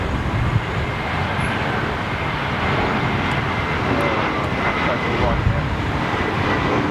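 Embraer airliner at London Heathrow Airport, a steady, loud broadband roar of jet engines filling the whole stretch without letup, with people talking faintly underneath.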